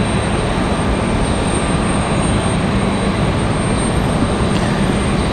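Steady, loud jet roar from a Delta Airbus A320 departing Raleigh-Durham International for Minneapolis, a continuous broadband rush with no talk.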